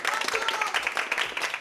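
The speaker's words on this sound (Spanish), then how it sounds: "Un aplauso, ¿no?" Audience applause at a Spanish charity presentation where football kits and boots are donated for Equatorial Guinea, a dense burst of clapping lasting under two seconds with some voices mixed in.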